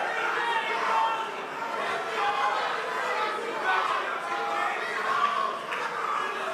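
Crowd chatter fills a press conference room for a boxing event in NYC, a dense, steady murmur of many voices with one voice occasionally rising above the babble.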